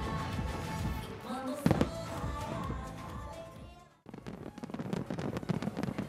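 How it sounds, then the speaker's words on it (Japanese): Yellow and green fireworks launched at a city fireworks festival in Ota, Tokyo, with a sharp bang partway through and a crackling, popping burst of shells afterward, heard from a distance. "黄色と緑のブラジルカラーの花火を打ち上げます。"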